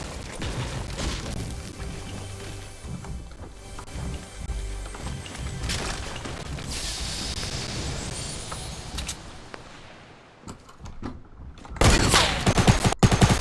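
Gunfire in the video game Fortnite rattles in rapid bursts and scattered shots, with dense volleys through the middle, a brief lull, then loud sharp close shots near the end.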